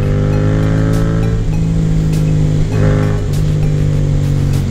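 Loud, close engine note from a Yamaha FZ-07 motorcycle, a strong steady drone that swells and shifts slightly in pitch as the throttle is worked.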